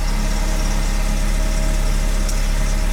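Engine of a Mercedes C230K car running steadily up close, a loud continuous low hum with no voices.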